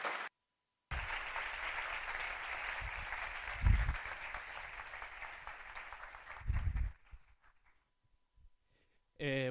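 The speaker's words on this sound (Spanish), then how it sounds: "un fuerte aplauso para él" Audience applause at an academic talk welcoming a student speaker presenting a final degree project, steady clapping for several seconds that thins out and fades, with brief talk at the end.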